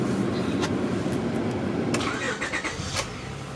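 Honda Accord 3.0 VTEC engine turning over and catching, then settling into a steady, close idle with a broad low rumble.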